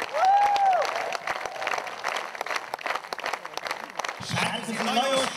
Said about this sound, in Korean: 박수 한번 받자.